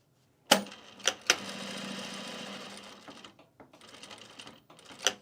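A sewing machine stitches a travel bag in short bursts, with sharp clicks and thumps between runs of fast steady whirring, close and moderately quiet, with no voices.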